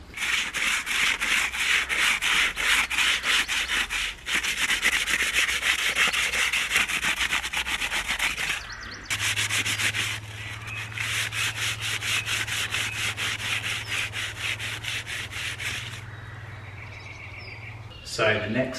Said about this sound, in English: And I'll sand it down, yeah.